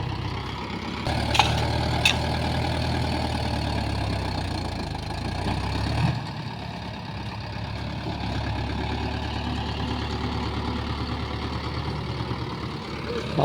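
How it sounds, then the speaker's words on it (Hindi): A Mahindra 585 DI tractor hauls a fully loaded trolley of red mud in high gear, its heavy diesel engine droning steadily and close throughout with one brief shift in pitch midway. "तो महिंद्रा ट्रैक्टर एक नंबर खींच ले जा रहा है हाई में"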